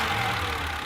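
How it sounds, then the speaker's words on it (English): A 1988 BMW straight-six fuel-injected engine runs in a steady, loud, dense rumble for a brief moment, with no voices. "This is the heart of a BMW. A straight 6-cylinder fuel-injected engine."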